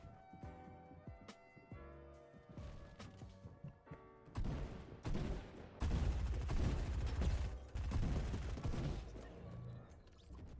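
Gunfire in the battle royale game Fortnite: scattered shots early on build into dense, rapid volleys that fade toward the end, all muted and distant, with no talk.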